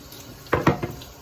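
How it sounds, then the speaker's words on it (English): Water poured into a bowl of cornmeal for Jamaican porridge, a short splashing pour in three quick gushes lasting about half a second, close and alone. "I pour some water onto the cornmeal, and you just mix it"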